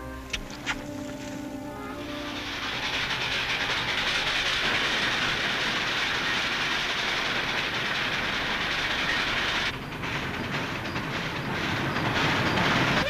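A steam train rumbles loudly and steadily along the tracks close by, a heavy continuous roar with rattling wheels that swells and holds.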